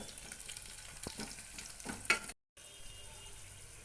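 Whole cloves and cinnamon sticks fry in oil in a pan, making a quiet, close sizzle with a few stirring clicks and one sharp clatter, then a short silent gap before the sizzle resumes.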